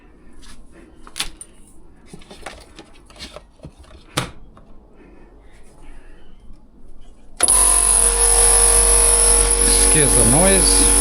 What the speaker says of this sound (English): get some air in the compressor